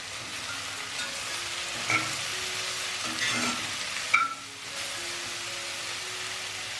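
A vegetable mixture with turmeric and salt is stirred in a hot pan, giving a continuous sizzle and frying hiss with a couple of utensil clinks against the pan.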